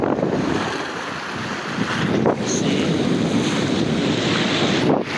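Strong sea wind at Bato, Leyte buffets the microphone in a continuous loud roar, mixed with the wash of waves near a boat, and a brief spoken word.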